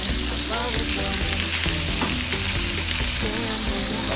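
Pork belly and Chinese kale stir-frying in a wok, with a loud, dense sizzle running throughout and scraping, clanking stir strokes over it.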